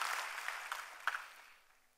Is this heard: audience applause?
yes